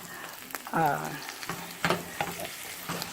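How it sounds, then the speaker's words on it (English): Eggs frying in a pan at breakfast, a close, steady sizzle with a few louder scrapes and stirs as they are moved around. "See, them eggs is getting up in there really good. They're cooking really good."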